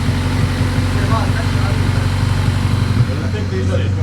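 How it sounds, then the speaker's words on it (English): A car engine idles at around 1.5k RPM with a steady low hum and a fast, faint ticking from the fuel injectors, close by, with voices talking over it. "You can still hear those. Yeah, it's probably the fuel injector."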